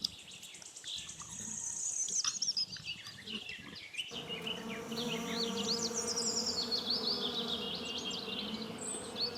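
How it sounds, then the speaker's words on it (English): A bee buzzes steadily and close for several seconds, a droning hum that swells midway, with birds chirping faintly in the background. "Bee."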